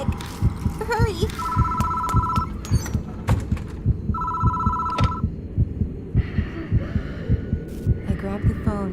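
Phone ringing in the Death Mark horror game, two clear electronic ring bursts over a throbbing heartbeat-like pulse and low hum.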